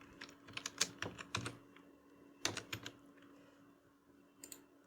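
Rapid, irregular keystrokes clatter on a computer keyboard while a formula is entered in Microsoft Excel, with short bursts of clicks separated by brief pauses.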